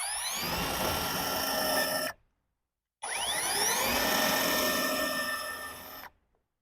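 A BLACKZERO cordless brushless 16V drill runs forward in two steady whirring bursts of about two seconds and three seconds, with a short silence between them. The tone rises as it spins up and is close and loud.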